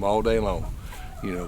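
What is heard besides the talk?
chickens clucking while eating behind speaker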